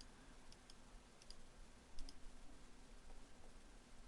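A computer mouse clicks through filter options, giving a few faint, sharp clicks, some in quick pairs, over low background hiss.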